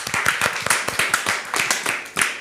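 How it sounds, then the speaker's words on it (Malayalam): A group of performers claps together at the close of a cheerful television episode, steady and fairly loud, with a few voices heard faintly underneath. "ഞങ്ങളുടെ വക ഒരു ബിഗ് ക്ലാപ്പ്"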